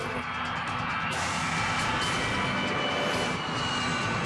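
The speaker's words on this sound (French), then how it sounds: "un avion qui s'apprête à atterrir avec 137 personnes à son bord" An airliner with 137 people aboard approaches to land with its landing gear stuck, giving a loud, steady broadband jet engine roar that holds constant throughout with no talk.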